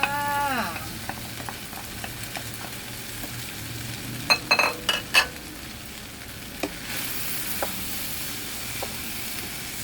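Pork fried rice with egg being stir-fried in a pan, a soft steady sizzle with a few sharp clicks and scrapes of the spatula against the pan, no voices.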